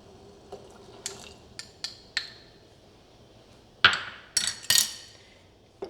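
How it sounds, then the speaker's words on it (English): Spoon clinking and scraping against a pot while stirring egg drop soup thickened with cornstarch slurry, irregular metallic taps and knocks over a quiet background. "Now I'm just going to constantly stir."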